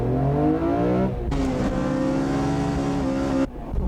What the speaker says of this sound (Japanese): ホイールスピンで前行かない。